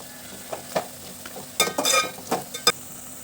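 Spices frying in a pan as poha mixture seasoning is stirred, a quiet background sizzle broken by several sharp scraping and clattering stir strokes, clustered toward the end.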